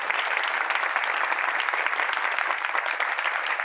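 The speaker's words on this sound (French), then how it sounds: "qu'on applaudit très fort" A studio audience at a talk show claps loudly and continuously, dense rapid applause holding steady at full strength for the whole stretch with no voices on top.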